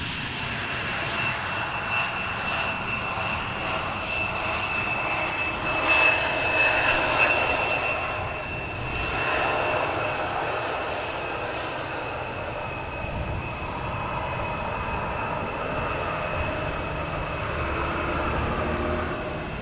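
An airliner arrives at Amsterdam Schiphol Airport with a steady, broad jet-engine rumble and a thin whine that swell and ease as it passes at a distance, and no one speaks.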